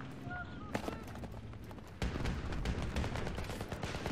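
Gunfire in the Battlefield 3 video game, with rapid shots crackling through a dense, noisy battle mix and growing louder after a sharp burst partway through.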